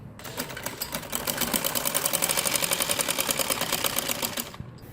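A sewing machine stitches across a folded salwar hem, the needle's rapid, even chatter running steadily for several seconds before stopping, close and alone with no voices.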